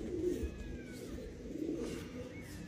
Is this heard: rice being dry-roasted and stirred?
no